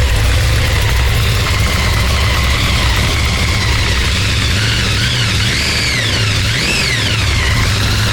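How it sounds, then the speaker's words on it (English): Blown 496 big block Chevy with Flowmaster two-chamber mufflers, idling loud and close with a heavy, lumpy low rumble and a couple of brief blips near the end. "Now we're going to put his Flowmasters on it."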